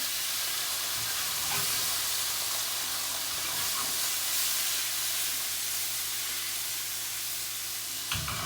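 Garlic and vine-ripe tomatoes sizzle loudly in a hot pan, a steady, dense, close hiss that holds throughout with only slight swells and a brief clatter near the end.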